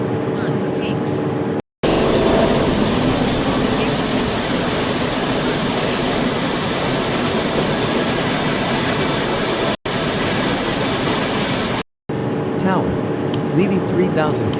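Jet airliner engines roar at takeoff power in a flight simulator game, a loud, steady, close rumble and whine that runs nearly unbroken, cutting out briefly a few times.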